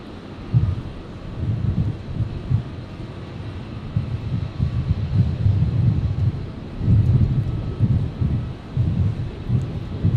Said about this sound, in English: 1899, the Embraer 190, just about to touch down.